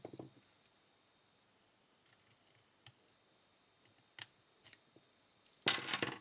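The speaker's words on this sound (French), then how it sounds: "Je vais donc couper aux 3/4 de la largeur de ma bande" Scissors snipping through a strip of paper, heard as sparse, faint close-up clicks and short snips spread irregularly over a quiet background, ending in a louder crisp cut.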